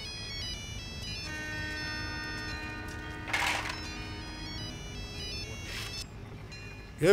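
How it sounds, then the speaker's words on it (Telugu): A phone ringtone in a Telugu action film scene plays a sustained electronic melody throughout, steady and moderately loud, with brief noisy bursts partway through and no talking. "ఈ శేఖర్ ఫోన్ చేసి నా ప్రాణం తీస్తున్నాడు."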